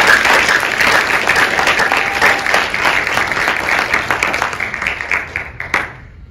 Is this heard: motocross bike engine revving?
no